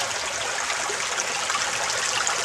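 A small, shallow river flows steadily at a crossing, its broad continuous rush and trickle close by and loud, with no voices over it.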